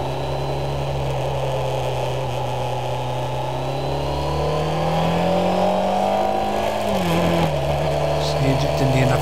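Kawasaki ZZR1200 motorcycle engine droning steadily while riding, pitch rising as it pulls then dropping sharply around seven seconds with an upshift, wind roar constant throughout.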